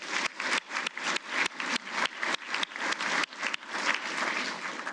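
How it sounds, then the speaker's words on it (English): Audience at an annual employee awards ceremony giving a sustained round of applause, many hands clapping steadily at moderate volume for several seconds with no voices over it. "So how about a round of applause for all those?"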